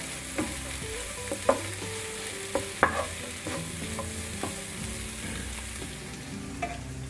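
A spoon stirs carrot and pea curry after garam masala goes in, with scattered scraping knocks against the pan over a soft, steady sizzle, no voices.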